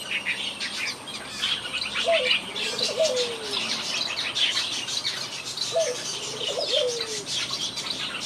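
Red avadavats, also called strawberry finches, call in a large aviary among other small finches, with short chirps repeating in pairs over a busy background of twittering birds.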